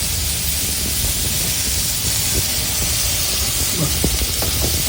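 Vegetables with chili flakes and oregano sauté in a hot pan for a cheese bread pizza, giving a steady, loud broadband sizzle and hiss with occasional faint stirring clicks throughout.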